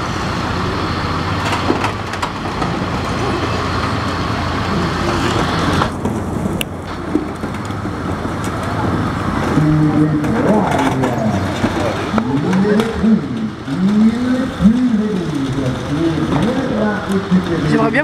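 Stunt cars at a stunt show, engines revving and roaring loudly nearby with bursts of acceleration and sweeping passes, under a steady crowd hum and some voices.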